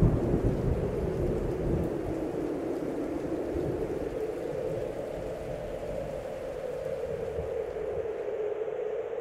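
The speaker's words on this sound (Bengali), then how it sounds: "ঝড় উঠেছে।" A thunderstorm sound effect: steady heavy rain hiss with a deep, rolling rumble of thunder swelling and fading across the span, loud and continuous.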